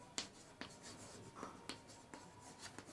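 A pen writes on paper while working a Class 12 determinants maths problem, with several short, scratchy strokes in quick bursts, close and fairly quiet, and no talking.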